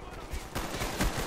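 Gunfire in Call of Duty: Black Ops multiplayer: a few sharp shots over roughly a second, with a stronger burst near the end, set against game noise and some voice-like sound.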